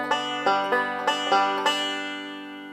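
A banjo plays a one-measure roll, a quick, even run of about eight plucked notes ringing together over a steady chord. The picking is close, clean and unaccompanied.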